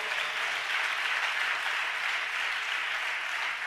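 Church congregation clapping together during a sermon, a steady, even wash of applause sustained for several seconds with no talking over it.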